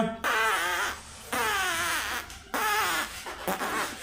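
Three long, warbling farting sounds during a farting challenge, close and fairly loud, following one another with brief breaks in between.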